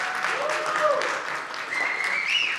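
Applause from a conference audience at a technology cup opening ceremony rises into a fuller round, steady and fairly loud, with voices and a high tone heard over it.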